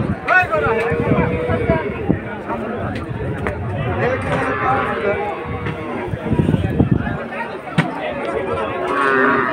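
Cattle lowing at a busy Bangladeshi livestock market, with deep moos rising repeatedly over a steady crowd murmur and nearby talking; red cows and milking cows with calves are among the herd.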